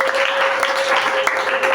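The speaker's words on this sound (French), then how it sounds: "Applaudissons pour lui." Audience applause at a French-language religious gathering, a short burst of dense clapping heard close and fairly loud.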